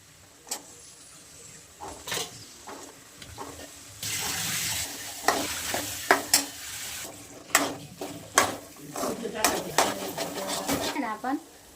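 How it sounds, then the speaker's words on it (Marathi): Green peas dropped into hot oil over gram flour, sizzling and being stirred with sharp scraping clinks of a spatula against the pan, close by, with a voice talking intermittently. "मस्त तेल सुटले आता आपण त्याच्यात वाटाणा टाकून घेऊ"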